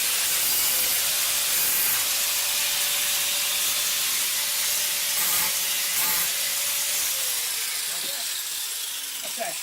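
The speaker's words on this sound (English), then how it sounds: "So you want to just grind that off." A grinder takes the burr off a freshly cut end with a loud, continuous hissing grind and a steady whine, running close by for about ten seconds before easing off slightly.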